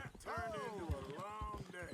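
A horse breaks into a faster gallop in Red Dead Redemption 2, its quick hoofbeats running steadily underneath a voice that carries over nearly the whole stretch.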